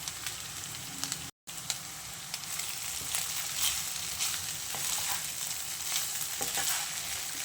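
Cooked rice stir-fried and tossed in a hot pan, giving a close, continuous frying sizzle with repeated scraping and stirring strokes and a momentary cut near the start, with no talking.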